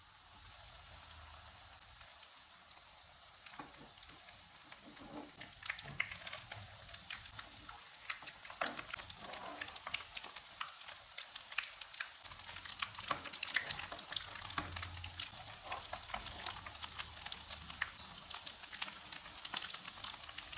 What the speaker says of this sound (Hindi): अब हम इनको फ्राई कर लेते हैं। ऑयल को मैंने गर्म होने के लिए रखा हुआ था।